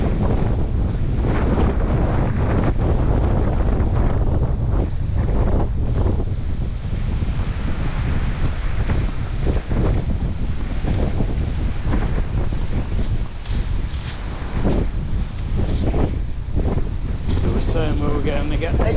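Strong outdoor wind buffets the microphone in loud, continuous gusts, with a roar that rises and falls throughout and no clear speech over it.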